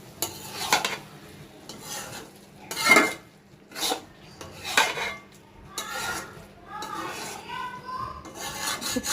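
Carrot halwa mixture stirred and fried in a pan, with scraping spoon strokes against the metal in uneven bursts, fairly close and moderately loud.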